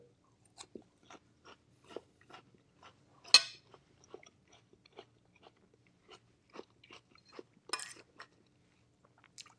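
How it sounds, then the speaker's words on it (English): Crisp crunching bites of a jicama mango salad with cilantro and lime, a steady series of sharp chews and bites at close range, with one or two louder crunches and a faint clink of cutlery. "It all has a nice crunch to it."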